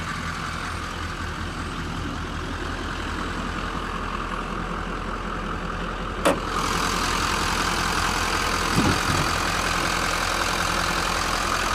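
A 6.6-liter turbo-diesel V8 Duramax engine in a Chevrolet Silverado 2500 HD idles steadily with a deep, continuous rumble, and a brief sharp click cuts through midway.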